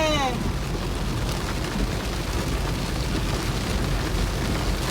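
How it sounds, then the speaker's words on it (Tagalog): Heavy rain with big raindrops pours down in a dense, continuous roar, with a voice briefly audible at the start. "Ang lalaki ng ulan. Ang lalaki ng patak ng ulan."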